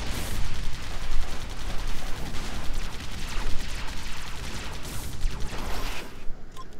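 Tank gunfire in the video game AirMech, a dense, continuous rattle of rapid shots and blasts that stays loud and busy throughout without a break.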